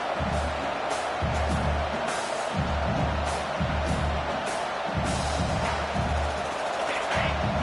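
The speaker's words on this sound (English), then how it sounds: "Wow, listen to this crowd noise. This stadium is vibrating." Football stadium crowd roaring in a rhythmic, pulsing surge with low thumping, a loud sustained wall of noise filling the space.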